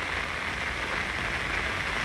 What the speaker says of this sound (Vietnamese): Mưa nãy giờ chắc nửa tiếng ha.